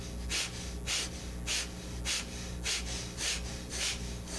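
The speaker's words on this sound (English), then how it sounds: "So make sure you breathe in and out loudly and forcefully." Loud, forceful yoga breaths, in and out through the nose, repeat in a steady rhythm of about eight sharp bursts, close and alone with no talking.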